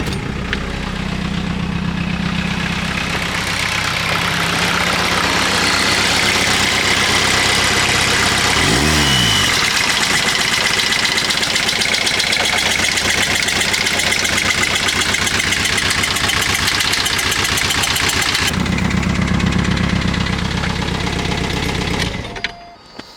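An old BMW 2000 runs at a car show, its engine loud and close with a rough idle and a knocking edge, a brief rev partway through and the sound cutting out at the end.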